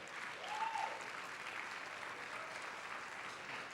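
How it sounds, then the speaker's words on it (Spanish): A church congregation gives sustained applause, a soft, even wash of many hands clapping at a distance, with a brief voice or cheer rising early on and no other talk. "Vamos a darle un aplauso al Señor"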